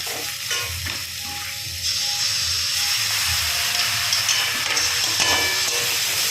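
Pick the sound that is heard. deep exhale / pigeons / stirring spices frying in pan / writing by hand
stirring spices frying in pan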